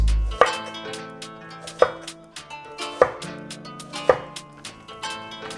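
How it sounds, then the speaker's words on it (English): A knife chops down through onion on a cutting board in steady, evenly spaced strokes, each landing as a crisp, close thud with a short ring after it. No voices are heard. "So we want thin slices of onions."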